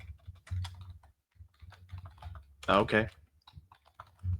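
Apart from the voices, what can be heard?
typing on a computer keyboard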